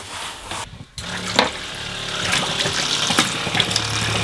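Water runs from a tap on a narrowboat just after the water pump was repaired, a steady close hiss of flow with a brief gap near the start and a few clunks and knocks over it.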